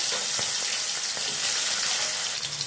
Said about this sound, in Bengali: কালো জিরেটা একটু ফুটে উঠলেই আমি ওর মধ্যে টমেটো কুচি সামান্য পরিমাণে দিয়ে দেবো